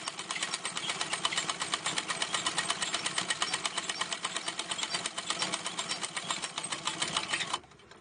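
A treadle sewing machine stitches a buttonhole, running twice around in a steady, fast rhythmic clatter of needle strokes, loud and close, alone throughout before stopping abruptly near the end.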